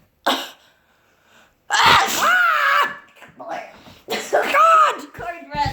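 Sophia, a girl, lets out several loud, explosive sneezes in quick bursts, close by, with short voiced cries and brief pauses between them.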